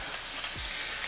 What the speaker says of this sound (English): sizzle here for a couple of minutes, and we do want this to get brown and a little bit crispy